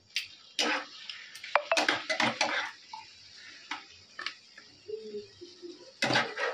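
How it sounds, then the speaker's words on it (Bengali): A lid set over a cooking pot in a home kitchen, with several sharp metallic clinks and clatters of pots and utensils spread through the clip, close and fairly loud, with quiet pauses between them. "তো এখন ঢাকা দিয়ে করবো এটা"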